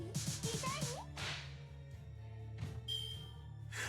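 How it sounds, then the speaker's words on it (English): A cartoonish slap effect from the mobile game Fate/Grand Order: quick whip-like cracks and swishes repeat over a few seconds, loud and close, mixed with game music and effects and no talking. "I like that slap animation sound."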